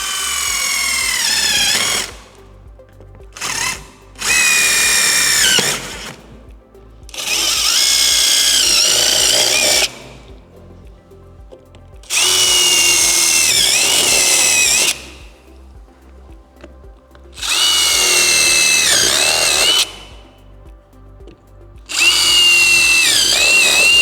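A power drill boring guide holes for a jigsaw cut, running in loud whining bursts of a few seconds each with short pauses between, the pitch rising and dipping under load.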